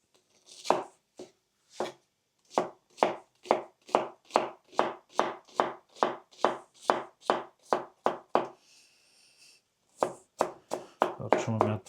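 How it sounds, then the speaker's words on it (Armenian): A knife chops onion finely on a board, a long run of crisp, evenly spaced thuds, close and clear, pausing briefly before a final quicker flurry of cuts. "կտրատենք սոխ"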